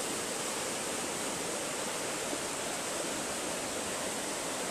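A river runs past a campground in a steady, full broadband rush of flowing water, close and unbroken, with no voices.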